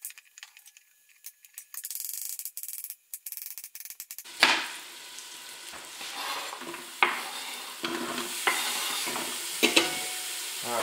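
Homemade chicken noodle soup stirred in a pot: quiet scraping at first, then a louder, steady wet stirring with sharp clinks of the utensil against the pot, sizzling underneath.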